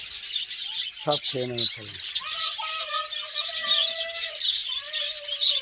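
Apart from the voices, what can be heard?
budgerigars chirping in a colony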